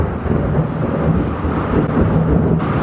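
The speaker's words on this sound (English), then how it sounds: "it's literally storming so bad right now" Thunder rumbles through a heavy storm, a dense, continuous low roar of rolling noise with rain and wind texture, loud and close, with no voices.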